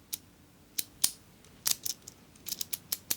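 A key pushed into a lock makes the pin tumblers click into position, a series of small, sharp metallic ticks in uneven bursts, faint and close with nothing else heard.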